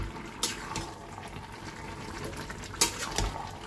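Pre-fried maya fish pieces go into a pan of cooking chorchori, making a couple of soft, brief splashy thuds over a low, steady simmering bubble.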